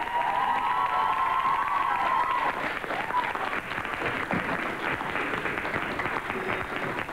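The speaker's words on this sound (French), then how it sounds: "je vais vous demander d'applaudir très très fort la jolie Hélène" A fan-conference audience applauds singer Hélène Ségara, loud continuous clapping mixed with scattered cheers and shouts that swell at first and then settle into a steady roar.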